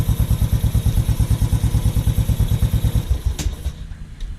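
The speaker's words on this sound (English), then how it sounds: "I've found for my bike with my settings, that's the most consistent idle" A Royal Enfield motorcycle engine idles with a steady, loping thump of evenly spaced pulses, close and loud, then the beat breaks off near the end and a brief clatter follows.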